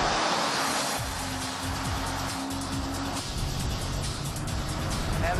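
A Chevrolet Corvette C6 Z06 on a test track sweeps past with a loud roaring engine and broadband rush of speed, sustained throughout with wind buffeting, no talk.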